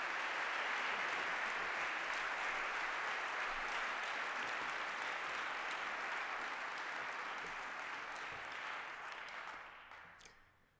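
Steady, dense audience applause welcomes a jazz musician at a lecture hall, holding at an even level for several seconds before tapering off into a few scattered claps.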